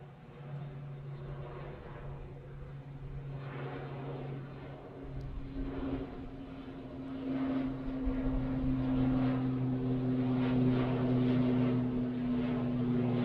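An airliner departs runway 23 right at Manchester Airport at night, its engine drone slowly building in loudness with steady low tonal hums that rise and strengthen over the clip.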